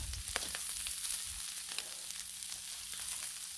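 Pork sizzles steadily on a Blackstone flat-top griddle, a continuous close hiss of frying fat with small crackles and pops scattered throughout.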